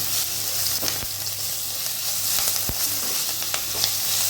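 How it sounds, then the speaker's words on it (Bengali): Coriander powder and Kashmiri chili being stirred into onions frying in a pan for a spicy restaurant-style chicken masala, a loud continuous close sizzle with scattered clicks and scrapes of the spoon. "তার মধ্যে আমি অ্যাড করব 2 চামচ ধনে পাউডার, 2 চামচ কাশ্মীরি মির্চি, এবং সেটাকে ভালো করে মিশিয়ে নেব।"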